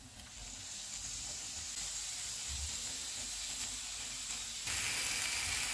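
Chicken cooking in a pan on a stove over low to medium heat gives off a constant soft hiss and sizzle throughout, growing slightly louder toward the end, with no voices.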